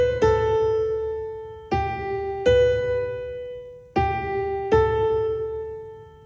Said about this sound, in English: playing tied notes should sound like this